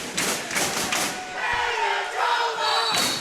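A men's dodgeball team, Fury, chants its team cheer at the Canadian national championship quarter-final, several rhythmic group shouts in quick succession with thuds, backed by a noisy indoor crowd.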